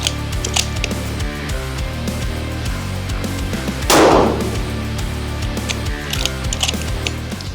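A Cadex Seven Stars Pro precision rifle in .223 fires a single loud, sharp shot near the middle, under a steady mechanical background hum.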